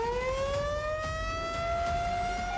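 A wailing air raid siren in India rises slowly in pitch, a single sustained tone carrying from a distance.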